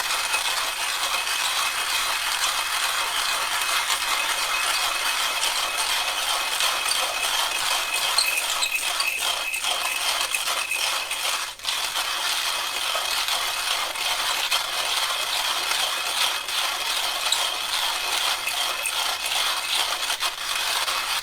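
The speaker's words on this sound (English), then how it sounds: "Right now I'm going to grind this coffee." A coffee grinder grinding coffee beans gives a continuous, close, gritty rattle and whir that stays steady and unbroken throughout.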